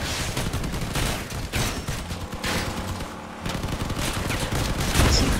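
Shotguns blasting in the vehicle combat game Crossout, a loud, steady barrage of repeated heavy shots and explosions with little pause, close and continuous throughout.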